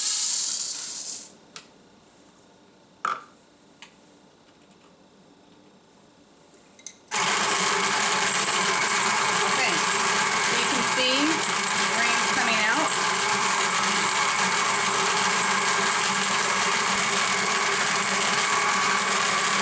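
A Mockmill grain mill attachment on a KitchenAid stand mixer grinding rice, starting after a few quiet clicks and knocks, then a loud steady whirring and grinding drone that continues without break.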